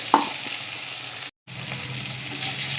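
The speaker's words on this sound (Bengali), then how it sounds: "এবার আমি কেটে রাখা পেঁয়াজটাকেও এতে দিয়ে দেবো" Chopped onion goes into hot oil with mustard seeds and garlic for a brinjal bharta, producing a steady, moderately loud frying hiss, a brief sharp clink near the start and a momentary dropout partway through.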